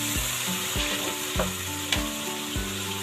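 Masala frying in a pan after a little water is added, sizzling steadily up close while a spoon scrapes and knocks against the pan in a regular rhythm, no talk.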